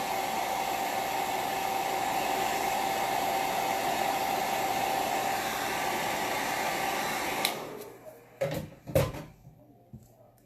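A hair dryer blows steadily and loudly on a craft stencil for about seven seconds, then cuts off, followed by a few close knocks and handling thumps.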